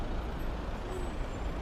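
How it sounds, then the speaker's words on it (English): Truck air brakes hiss broadly in a traffic backup on a Hong Kong road, a steady, loud, close rush of noise over low engine rumble, with no talk. "This is a very odd traffic backup because there's usually never any traffic like this."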